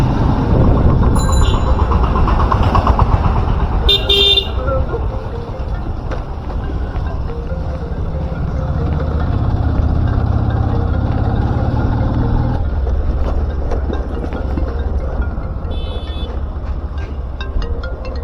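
Road traffic heard from a rider on a 15th August ride: a loud continuous rumble of engines and passing vehicles with brief high tonal bursts like horns, wind-buffeted and close.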